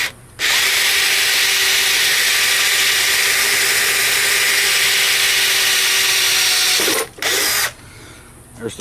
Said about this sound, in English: I'm drilling on a round piece of stock here.